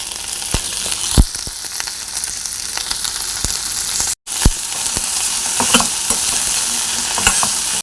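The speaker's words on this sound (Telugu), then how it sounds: "టమాటాలు అయితే దీంట్లోనే వేసి మగ్గనిద్దాం" Tomatoes for okra chutney sizzle and fry steadily in a pan, a dense, close crackle broken by occasional stirring scrapes and one brief cut to silence midway.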